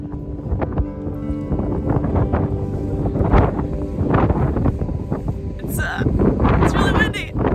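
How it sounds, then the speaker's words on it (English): Strong wind buffets a microphone on the exposed summit of Rabun Bald at night, a steady low roar with gusty swells, while people talk over it throughout. "It's really windy."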